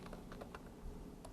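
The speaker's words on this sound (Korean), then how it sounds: "그냥 타이핑으로 요 내용 입력하면 됩니다" Typing on a computer keyboard during data entry in accounting software, a quiet run of soft, irregular key clicks with no talking.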